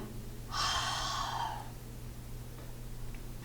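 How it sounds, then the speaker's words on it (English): A single drawn-out breathy yawn during gentle yoga, soft and close over a low steady hum, lasting about a second before fading. "We're yawning."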